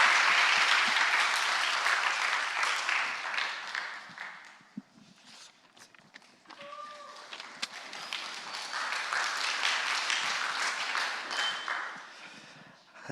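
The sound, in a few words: audience applause in church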